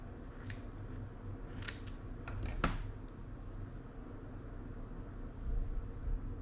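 Scissors snip through clumps of Squimpish and Ice Sheep fly tying material in a few quick, crisp cuts close by in a quiet room, with soft handling noise between snips.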